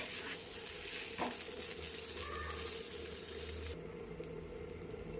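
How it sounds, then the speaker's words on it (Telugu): A dosa roasting in ghee on a hot pan, a soft steady sizzle and crackle heard close up without any voices, easing noticeably toward the end. "సో దోశని ఇలా ఎర్రగా కాల్చుకోవాలి."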